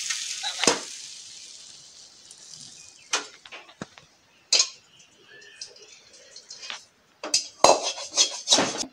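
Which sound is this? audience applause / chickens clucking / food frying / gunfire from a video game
food frying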